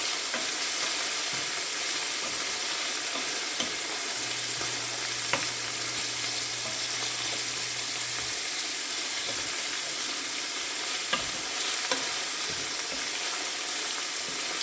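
Salted codfish sautés in a pan, a constant broadband sizzle running evenly the whole time with occasional faint stirring clicks, close and moderately loud.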